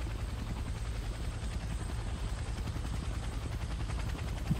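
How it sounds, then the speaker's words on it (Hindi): A helicopter arrives in the action game IGI 2, its steady rotor chop and engine drone filling the scene continuously at constant loudness, with faint gunfire-like clatter mixed in. "अभी आएगा एक हेलीकॉप्टर आएगा एक।"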